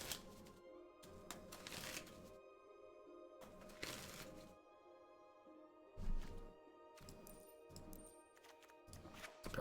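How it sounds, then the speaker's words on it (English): A deck of playing cards is shuffled during a Magic: The Gathering Standard match, giving repeated bursts of riffling and bridging with crisp clicks and short quiet gaps between them, close to the microphone. "I find shuffling therapeutic."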